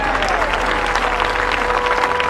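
Loud, sustained applause from a church congregation fills the whole stretch, dense steady clapping from many hands with a crowd murmur beneath, alone without speech.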